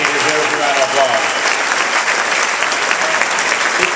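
A dense round of applause from a large audience fills a gala dinner hall, loud and sustained with voices mingling in the crowd.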